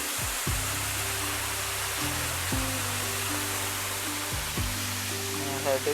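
Deep river water flowing steadily during heavy monsoon rain in the Konkan countryside, a continuous broad rushing wash that runs throughout, with voices talking over it at intervals.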